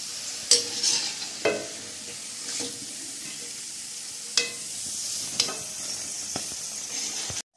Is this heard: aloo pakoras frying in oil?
yes